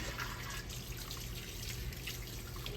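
Running water from a kitchen tap splashes and trickles into a sink while seeds are rinsed out of vegetables for relish, a steady close stream with small drips and splashes.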